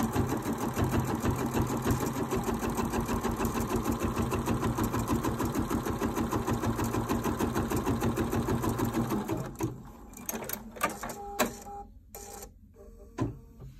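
A Bernina 790 sewing machine stitching through fabric, running with a fast steady mechanical whirr for about nine seconds, then slowing into short bursts and stopping, close up.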